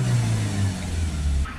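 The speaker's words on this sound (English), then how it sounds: "Now we can rev the vehicle up." Citroen Relay 2.2 diesel van with a particulate filter fault, its engine revving up close with a loud low drone that climbs and then eases back over a short burst.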